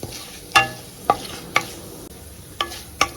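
Vegetables with turmeric being stir-fried in a pan for vegetable Maggi noodles, heard as several sharp, separate scrapes and clinks of a spoon against the pan at close range over a soft sizzle, with no talking.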